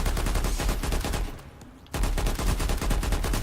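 Rapid automatic fire from the Naginita gun in a shooter video game, loud continuous bursts with a short pause midway before the firing resumes.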